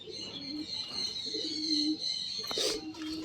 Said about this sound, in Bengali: এই কবুতরটা খুব ভালো ফ্লাই করে